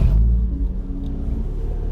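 A Mazda Miata cruising up a country highway in Ontario, Canada, its engine giving a steady low rumble with constant road noise and no talking.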